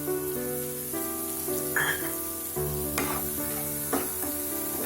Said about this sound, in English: Fry it for 1 minute.